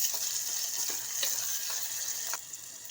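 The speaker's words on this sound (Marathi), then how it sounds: "आता याच्यात आपण टमाटर घालूया तो पण चांगला परतून घ्यायचा" Chopped tomato sautés with onion in a hot pan, a steady close sizzle punctuated by a few soft stirring scrapes, fading slightly at the end, no voices.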